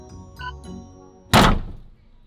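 A boat engine lowered on a winch drops onto foam with a single heavy, dull thunk after a second of quieter rattling, then fades out.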